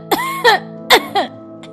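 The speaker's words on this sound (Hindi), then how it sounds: "तुझे तो खांसी भी आ रही है" A few short, harsh coughs close by, two pairs of bursts spaced apart, with a faint fifth near the end.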